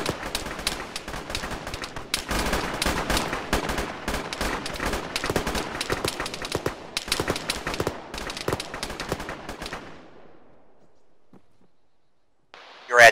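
Dense gunfire in the video game Arma during a ShackTac Fallujah mission: rapid overlapping shots and bursts for about ten seconds, then a sudden drop to a quiet tail with a few faint distant pops and one sharp burst at the end.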